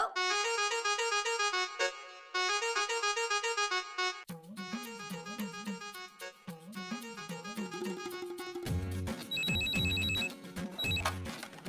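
A telephone ringing in a drama scene, its repeating electronic ringtone melody sounding loud and steady for the whole span, with denser musical tones and low thumps toward the end.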